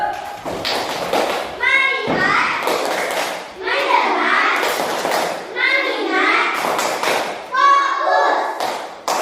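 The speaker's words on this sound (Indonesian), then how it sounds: "Tepuk fokus." A class of children performs a rhythmic focus clap, with repeated patterned claps and thumps mixed with a teacher's voice and children's chanting.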